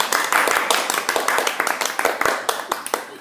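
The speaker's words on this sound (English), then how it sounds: "Everybody, applause, applause." Small live studio audience at a cooking show clapping to welcome a guest, close, brisk claps from a handful of people with distinct individual hand strikes, tapering unevenly toward the end.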